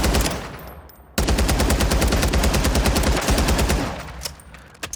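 Rapid automatic gunfire from a TAC V rifle in Call of Duty Warzone 3, a sustained loud burst of evenly spaced shots lasting about three seconds after a brief quieter lead-in, with no talking.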